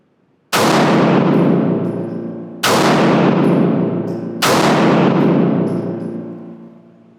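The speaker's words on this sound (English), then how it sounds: "So I'm gonna fire a 3-round group the best that I can into the 2-inch circle." Three loud, close 9mm pistol gunshots fired at a steady, deliberate pace about two seconds apart, each a sharp crack trailing into a long ringing decay outdoors on a range.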